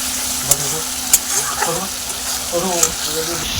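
Spice masala with Kashmiri chilli powder sautés in a pan for chicken biryani, giving a loud, steady sizzle broken by sharp scraping clicks of a spatula as it is stirred.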